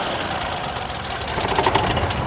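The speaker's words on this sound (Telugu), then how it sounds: "ఇంజన్ యొక్క నాయిస్ కూడా సైలెంట్గా ఉంది" A car engine idles steadily nearby, a continuous rough mechanical rumble with faint ticking and no voices.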